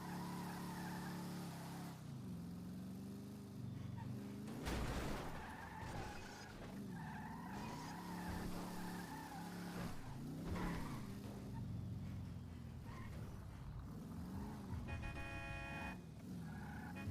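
A stolen car drives in GTA roleplay, its engine rising and falling through gear changes, with tire squeals and skids and a burst of crash-like noise, moderately loud and steady over the whole stretch.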